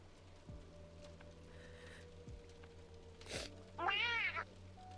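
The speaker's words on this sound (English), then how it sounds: "Let me turn off the boops, that way you don't have to hear the meows." A cat meow sound alert on a livestream, one clear, close meow that stands out over a quiet background of low hum and light rustling.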